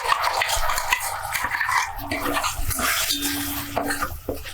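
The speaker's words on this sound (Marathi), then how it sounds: "कांदा परतून झाला आहे आता त्यामध्ये घालूया ही आलं लसूण आणि टोमॅटोची पेस्ट" A spoon stirs ginger, garlic and tomato paste into fried onions in a pan for a parwal dish, giving steady scraping and soft clattering with a faint sizzle under it.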